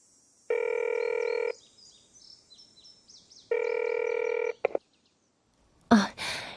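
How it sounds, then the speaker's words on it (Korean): Two long electronic ring tones of an outgoing phone call, each lasting about a second and separated by a pause, heard clearly over a faint high hum, then a brief click and a short burst of noise. "카페 주인에게 전화를 걸었다."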